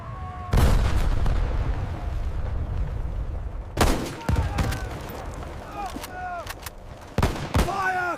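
Gunfire sound effect of a guerrilla ambush: sharp, loud shots and bursts arriving in clusters with ricochet-like whines between them, alongside a narrator's voice.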